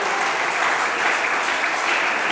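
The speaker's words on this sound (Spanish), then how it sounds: "déle ese aplauso con todo el alma al Señor" A congregation in a church service breaks into loud, dense applause, a continuous even roar of clapping with no pause.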